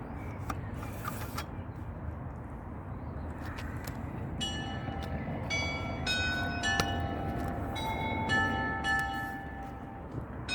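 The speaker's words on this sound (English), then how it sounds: "The bells of St. Michael's have caught us." Church bells of St. Michael's begin ringing partway through at 6 a.m., a cluster of overlapping clear tones over a low rumbling background, swelling and continuing to the end.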